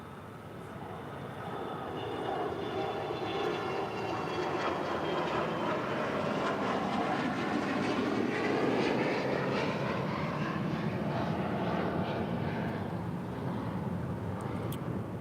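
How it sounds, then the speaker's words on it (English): A Gulfstream 4 business jet departs from LAX, its engine roar swelling over the first seconds and then holding loud and steady, with a slowly shifting whine layered on top. "This Gulfstream 4 is departing to Cartagena."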